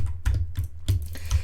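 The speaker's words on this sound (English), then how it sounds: "We're gonna butterfly click this time." A computer mouse is butterfly-clicked rapidly during Minecraft PvP, giving quick, close clusters of sharp clicks in an uneven rhythm with no talk.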